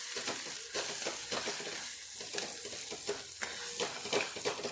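Spices with asafoetida stirred in a frying pan while cooking mataki bhaji, a steady sizzle with repeated scraping strokes of the stirring utensil, close and fairly quiet, no talking.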